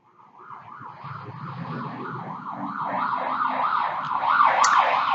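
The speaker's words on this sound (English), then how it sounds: "I can hear a siren." A vehicle siren wails in a rapid repeating up-and-down pattern, growing steadily louder as it approaches and passes, with traffic rumbling underneath.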